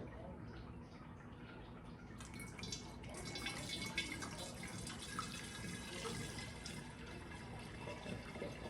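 Mead poured from a container into another vessel makes a steady liquid splashing and trickling stream, fairly close, growing fuller partway through with a brief fainter stretch at the start.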